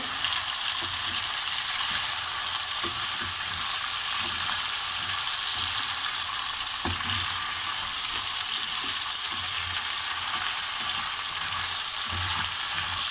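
Bone-in chicken frying with garlic and ginger, a dense, steady hiss of hot oil running unbroken throughout, close and fairly loud, with faint stirring knocks underneath.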